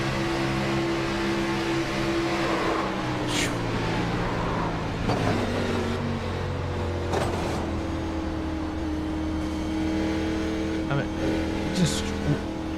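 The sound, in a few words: race cars crashing into the wall in iRacing video game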